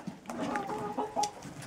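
A laying hen about six years old clucks softly in a winter coop, a few quick nearby clucks over about two seconds.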